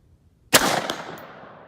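One sharp, loud gunshot from a Sig Sauer Virtus AR15 rifle fired outdoors at targets, a crisp crack that rings out and decays over about a second.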